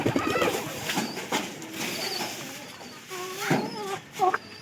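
Pigeons kept in a loft cooing nearby, soft repeated throaty coos and warbles in irregular bursts with some rustling and faint background voices.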